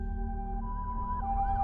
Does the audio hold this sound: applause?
no